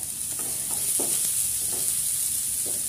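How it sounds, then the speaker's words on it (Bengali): Onions dropped into hot oil with asafoetida and dried chilli for a dhaba-style arhar dal tarka, giving a steady close sizzle with a few soft stirring clacks, no voices. "পেঁয়াজগুলো ছেড়ে দিলাম।"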